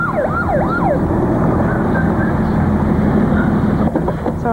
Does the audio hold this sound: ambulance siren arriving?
yes